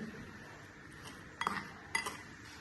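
A spoon stirs a salted, sweetened tea mixture in a cup, soft quiet scraping followed by two distinct metallic clinks against the rim, close and faint.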